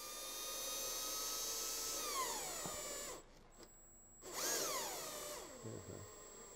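A power tool driving a screw to fix a component into a plug set in gypsum plasterboard: a loud, close motor whine that drops in pitch under load, stops, then spins up briefly again.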